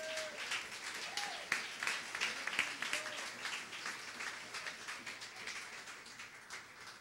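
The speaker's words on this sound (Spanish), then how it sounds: "dale un fuerte aplauso al Señor" A church congregation claps for the Lord during a service, a fairly faint, steady patter of applause that fades slightly toward the end, with some voices underneath.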